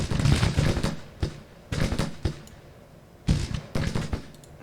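Civil War troops firing in the strategy game Grand Tactician, repeated musket volleys cracking out in irregular bursts, some loud and close, with short gaps between.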